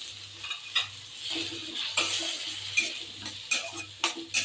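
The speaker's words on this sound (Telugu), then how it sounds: "ఇప్పుడు ఇందులో టమాటో వేసుకుందాం. టమాటో వేసినప్పుడు కొద్దిగా ఉప్పు కూడా వేసేయండి." Tomatoes with salt cooking among softened bottle gourd pieces in a pan, a soft sizzle broken by repeated scraping stirs and light clinks of a spatula, with a faint low hum in the background.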